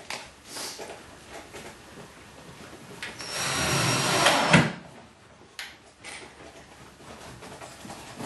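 A power drill drives screws into a wooden two-layer rabbit rack, a single rising whir lasting about two seconds that peaks with a sharp bite at the end, surrounded by quieter handling knocks.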